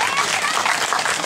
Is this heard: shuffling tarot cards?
no